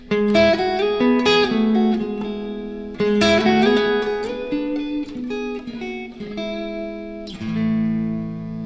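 An electric guitar with its tone knob rolled back plays a short melodic phrase of picked notes and bends with a mellow, softened tone, each note ringing out.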